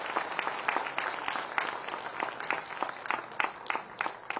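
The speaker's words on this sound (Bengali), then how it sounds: "সবাই আরো একবার তার জন্য জোরে করতালি আশা করব" Audience applause at a government job-offer handover ceremony in Tripura, a steady wash of many hands clapping with dense, fairly loud rhythmic claps throughout, no voices.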